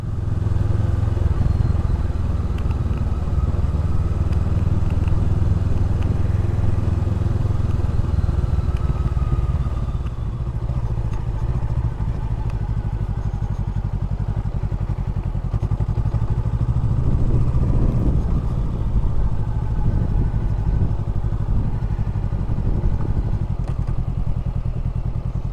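A motorcycle on the ride home makes a steady, close engine drone mixed with wind rush, continuous for the whole stretch, with a brief dip partway through.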